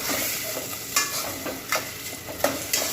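Onion paste fries in a pan with a steady sizzle, broken by several sharp scraping stirs at irregular intervals, close and fairly quiet.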